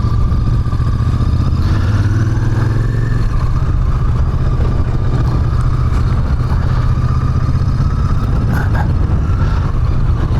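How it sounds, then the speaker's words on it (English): A Royal Enfield Interceptor 650 motorcycle on a ride home from work, its engine a constant close rumble mixed with wind roar, holding steady for the whole stretch without any talk. "We are going to have a fun little ride home, courtesy of my Royal Enfield Interceptor 650."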